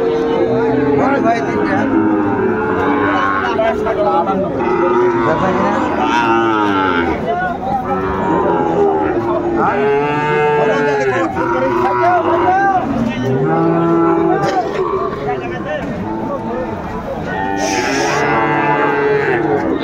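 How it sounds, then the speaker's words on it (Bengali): Sahiwal cattle, bulls and calves on a farm, moo again and again, deep drawn-out calls from several animals close by, with a murmur of people in the background. "শাহিওয়ালার ষাঁড় আমরা দেখছিলাম এখানে"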